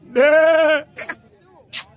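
Goat bleating at a livestock market ahead of Bakra Eid: one loud, sustained, wavering bleat, followed by short bursts of voices and a sharp noise.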